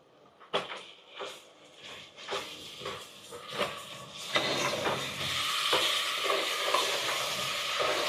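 Mutton dropped into hot oil in a pan and stirred, a run of close scraping stirs giving way to a loud, steady sizzle that builds and fills the second half.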